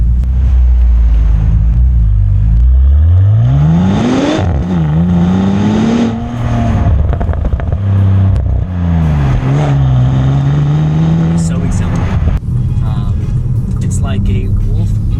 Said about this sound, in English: you get all the backfires and burbles of a sports car